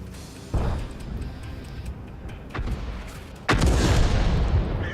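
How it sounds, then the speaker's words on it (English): Tank cannon fire in World of Tanks, with booming shots at about half a second, 2.6 seconds and 3.5 seconds, each leaving a sustained rumbling roar behind it. The last blast is the loudest and closest. "I did like that shot. That was a good shot."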